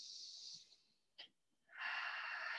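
Slow, audible breaths during a yoga breathing exercise: a long airy exhale, a brief sharp sniff, a pause, then a strong drawn-out breath, close and intimate with no talking.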